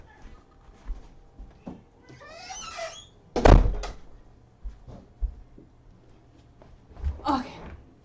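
A door closes with a single solid thump midway through, amid light background rustles and a few faint high chirps.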